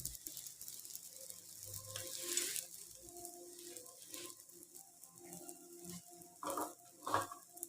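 Achari paratha cooking in a pan over a low flame gives a faint, steady sizzle with soft scraping and a few brief clatters, fairly quiet throughout.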